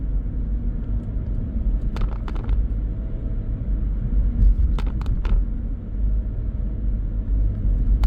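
A car drives along Allentown Road, its low, steady rumble of engine and tyres close and continuous, with a few sharp clicks and rattles in the cabin.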